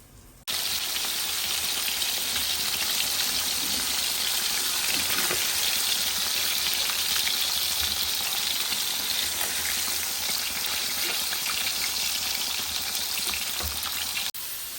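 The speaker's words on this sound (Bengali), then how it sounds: "মাছ ভাজা তেল আর পেঁয়াজ দিয়ে দিলাম এখন এগুলো ভাজা ভাজা হোক" Onions sizzle in hot leftover fish-frying oil in a large pan, a loud, steady crackling hiss that starts abruptly and continues without letup, with faint stirring scrapes and no voices.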